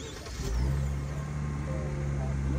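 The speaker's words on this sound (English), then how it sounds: "so go ahead and start up the car." A Genesis car's engine cranks and catches, swelling into a steady idle hum close by, with voices talking over it.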